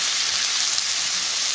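Seared chicken and onions sizzling in a pan, a steady, bright hiss of frying that carries on evenly with no talk over it.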